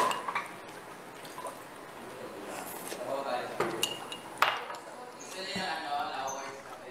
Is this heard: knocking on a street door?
no